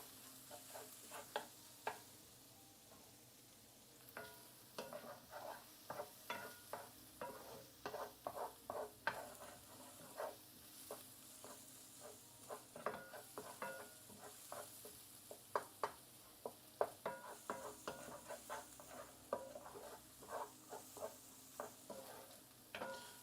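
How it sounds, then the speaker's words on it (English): Garlic browning in a pan while being stirred for a stromboli filling: a soft continuous sizzle under repeated light scraping and tapping of a utensil against the pan, fairly quiet and close, with no speech. "I don't want the garlic to burn. We'll just let it brown just a little bit"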